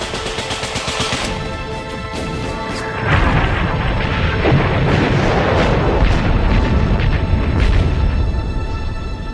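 Artillery bombardment during a First World War battle in the woods, heavy booms and crashing bursts rolling in a dense, continuous barrage that grows louder partway through, with no voices.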